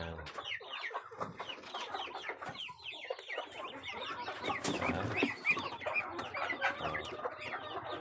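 Weeks-old black Muscovy ducklings peep continuously in a busy chorus, many high chirps overlapping close by with a few lower calls mixed in.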